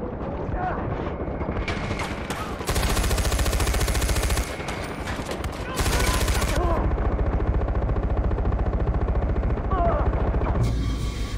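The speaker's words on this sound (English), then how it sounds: "Oh, another helicopter, I did not see." Far Cry 4 combat with a helicopter droning overhead and bursts of machine-gun fire coming in long loud stretches, while a voice talks intermittently under the shooting.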